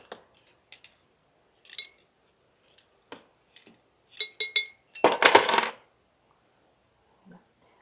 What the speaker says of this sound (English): Now I'm filling it with my tomatoes and giving it a shake as I fill them